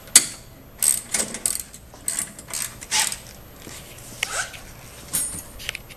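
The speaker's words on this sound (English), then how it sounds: "loosen up the 6 bolts that hold the rear subframe assembly onto the stock frame" A ratchet loosens the rear subframe bolts on a motorcycle frame: bursts of rapid, close clicking come in uneven runs with short pauses between them.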